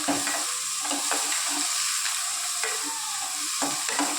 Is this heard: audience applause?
no